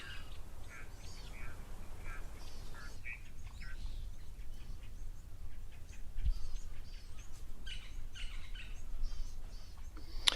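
Ducks quack and other birds chirp and call steadily at a waterhole where crocodiles are present, with continuous outdoor ambience and scattered, moderately distant calls throughout.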